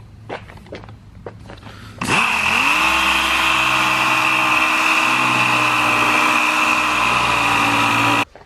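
A power sander works on a car's rear bumper during body work, starting abruptly after a few faint clicks and then running in a loud, steady, high-pitched whine until it cuts off at the end.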